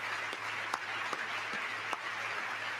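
A few scattered people clap at a presidential address to Congress, sparse separate claps heard faintly over a steady background hum of the hall.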